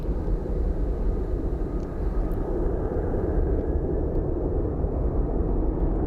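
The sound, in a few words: airplane flying at Phoenix Sky Harbor airport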